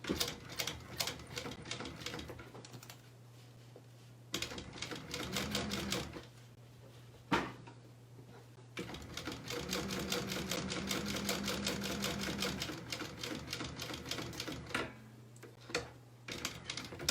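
A sewing machine top-stitches a bag in several runs of rapid, even stitching, separated by short pauses and a few handling clicks.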